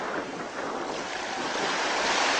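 Strong water current rushes through a shallow sea passage about 70 cm deep, a dense, continuous hiss and roar of moving water mixed with wind buffeting the microphone, steady and close.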